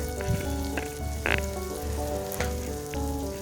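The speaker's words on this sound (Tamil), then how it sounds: "அதுவும் ஆட் பண்ணிவிட்டு நல்லா வதக்கி விட்டுருங்க கருகிடாமல் பார்த்துக்கலாம்" Garlic sautéing in a pan for Coimbatore-style uppu paruppu gives a steady, close sizzle with scattered crackles and pops, and no one speaks.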